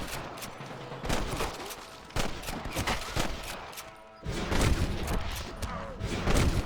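A Red Dead Redemption shootout with bursts of rapid gunshots cracking in quick volleys, loud and close, with brief lulls between clusters.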